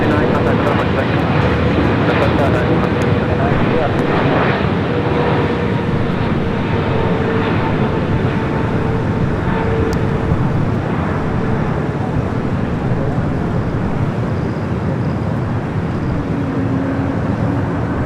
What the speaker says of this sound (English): Cathay Pacific coming in from Hong Kong, 777 and 300 ER